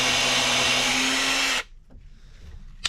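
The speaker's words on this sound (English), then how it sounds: "We're countersinking holes in the attempt to not split this wood any worse than it already is." Power drill countersinking screw holes in already split wood, a loud steady whine running for about a second and a half before cutting off abruptly, followed by faint handling noise and a small click at the end.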